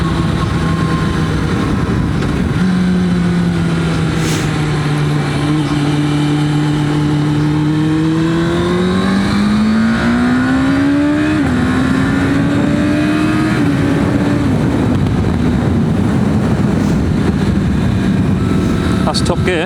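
A Suzuki SRAD motorcycle engine pulls up through the gears, its pitch rising, dropping at each shift and climbing again, with loud wind roar throughout on the move.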